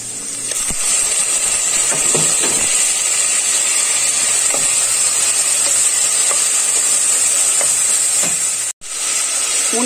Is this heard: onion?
yes